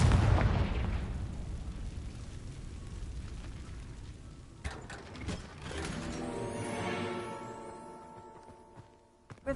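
A Confringo spell bursts in Hogwarts Legacy with a loud, deep booming blast at the start, followed by rumbling and mechanical clanking that fades to a few faint sharp hits.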